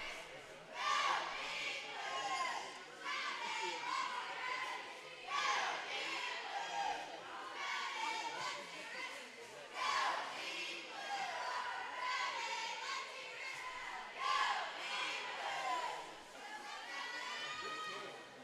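Cheerleaders chanting at a high school basketball game in a gym, with rhythmic bursts of shouted cheers rising and falling every few seconds over steady crowd chatter.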